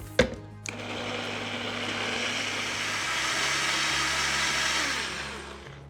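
A blender purees a mixture of water and grated Edam cheese for a pound cake. It kicks on abruptly after a couple of clicks, then holds a loud, steady whirring drone for about five seconds.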